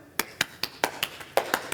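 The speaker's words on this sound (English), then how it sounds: "I want you to join me in a round of applause." A group clapping in a round of applause at a church Bible hour, a sparse, fairly faint patter of about nine distinct claps in steady rhythm.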